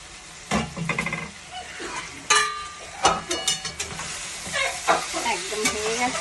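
Cabbage cooking in ghee with garam masala in a pan, with sizzling and frying crackle, scraping stir strokes and a few sharp clinks of a utensil against the pan, close and fairly loud.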